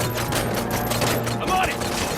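Dense gunfire in the RoboCop: Rogue City game, a loud continuous burst of overlapping shots and rattling fire, with shouting voices mixed in.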